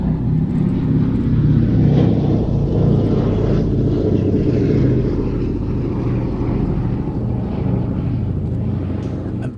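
The B-17 bomber Sally B flies a solo display, its piston engines giving a loud, sustained, rumbling drone that stays low and heavy and drifts slightly as the aircraft passes.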